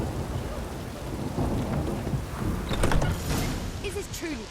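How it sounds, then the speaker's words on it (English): Steady rain patters and hisses in The Witcher III: Wild Hunt, with low rumbles of thunder rolling underneath and a few brief mechanical clicks near the end. "It's raining again."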